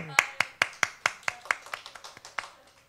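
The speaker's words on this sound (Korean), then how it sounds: "우리 박수 한번 해주세요." Crisp hand claps from a Sunday church congregation come in a steady, evenly spaced beat, about a dozen sharp strikes that start strong and gradually soften over three seconds.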